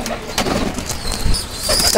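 Soft cooing of pet racing pigeons kept by a fancier, close and fairly quiet, with someone talking over them.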